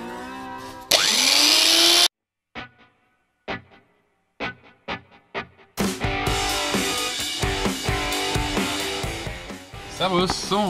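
An angle grinder fitted with a stainless steel polishing roller whines loudly in a short burst, then runs in several brief pulses, and finally grinds continuously at length.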